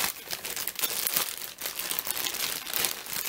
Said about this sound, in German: Und dann tun wir die Tüten in unsere Aussparung hinein.